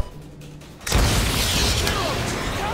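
Missile strikes explode in Call of Duty: Modern Warfare 2, a sudden loud boom after a quiet lead-in, followed by a sustained roaring rumble.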